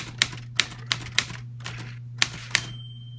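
An old manual typewriter clacks with six sharp, close keystrokes in an uneven rhythm, each a crisp strike against a steady low hum, with a short gap midway and a faint ring trailing off at the end.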